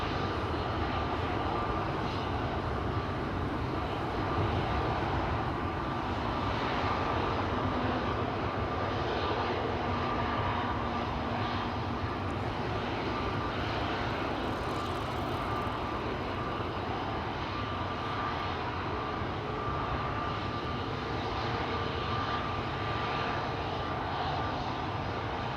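A KLM Embraer E195-E2 jet airliner at Amsterdam Schiphol Airport gives off a steady, broad engine roar that holds at an even level for the whole stretch, with no talk.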